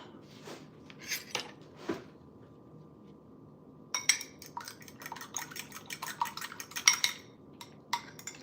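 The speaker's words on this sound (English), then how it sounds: "bust those eggs, just kind of give them a little whisk" Eggs cracked against a bowl and whisked with a utensil in a home kitchen, a few sharp taps early followed by a burst of quick clinking whisk strokes, close and clear with no talking.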